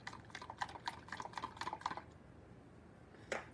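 Brown gravy mix being stirred into cold liquid, giving a quick run of light clicking taps for about two seconds, then quiet apart from one last tap near the end.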